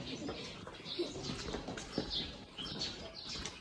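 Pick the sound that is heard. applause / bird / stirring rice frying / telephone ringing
bird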